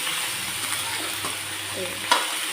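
Onions fry in a pan while bitter gourd is being cooked, with a steady, gentle sizzle throughout and one brief metallic clink near the end.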